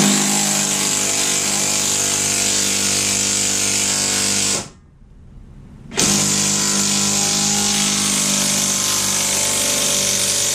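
Power tool whirring steadily while working on a Jeep TJ in hot outdoor conditions, loud and continuous, cutting out for about a second before resuming at the same level.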